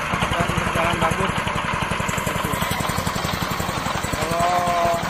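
A pellet machine's engine runs steadily close by, a continuous rhythmic mechanical chugging with dense pulsing that holds even from start to finish.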